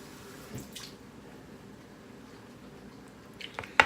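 Water is poured briefly into a mixing bowl of brownie batter, giving a few faint splashes and trickles against a quiet kitchen background.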